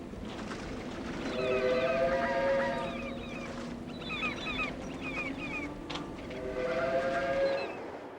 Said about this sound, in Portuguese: Este trem de carga transporta uma expedição de combustível irradiado, proveniente de uma usina nuclear